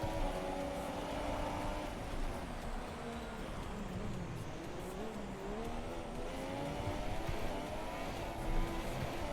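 Race cars in the F1 2017 video game launching off the start line, a dense, steady roar of many engines revving and rising in pitch together, loud and continuous with a faint tire squeal.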